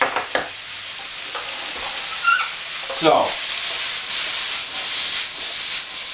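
Blanched noodles sizzle and hiss in a hot pan as they are tossed, with scraping stir sounds and a louder burst of frying partway through; a voice says a brief word at the start.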